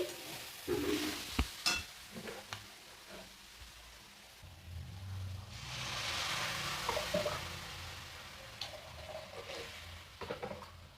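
Water is poured into a pan of frying vegetables for egg soup, a quiet rushing hiss and bubbling swell after a few scraping stirs, faint and close, with no talking.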